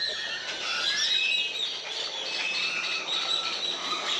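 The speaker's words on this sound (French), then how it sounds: "Il y a des oiseaux partout," Birds chirp and call continuously in a tree, several overlapping high tweets at moderate distance over a steady outdoor hiss.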